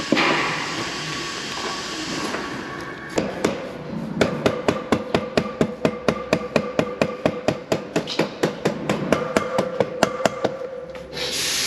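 Axle being tapped through an adventure motorcycle's front wheel hub: a long run of sharp, evenly spaced metallic knocks, loud and close, with faint rubbing before the tapping starts.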